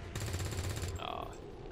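A burst of rapid gunfire in the video game XCOM 2, a shot going wide of its target: a quick rattling volley followed by a brief electronic tone, loud and close, with no talk.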